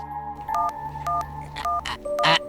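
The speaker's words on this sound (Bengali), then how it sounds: "এই তো রিং হচ্ছে" In a cartoon, a telephone is dialled with a quick series of separate electronic keypad beeps, each short and clear, followed by a brighter ringing tone at the end.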